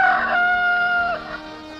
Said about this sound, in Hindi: रात्रि बीतने के बाद मुर्गे ने बाग लगाई।